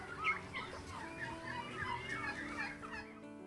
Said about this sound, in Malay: Terdapat beberapa baka ayam piru yang diternak, antaranya jenis Bourbon Red, Black Spanish dan Royal Palm